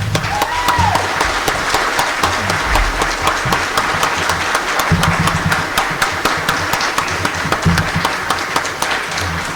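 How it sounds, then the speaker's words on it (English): Audience applause at a Republican primary candidate forum, a loud, dense burst of clapping from many hands that carries on steadily throughout, with a low rumbling background beneath it. "Let's give them a round of applause."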